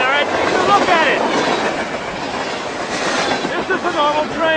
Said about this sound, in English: This is a normal train, alright? Take a look at it!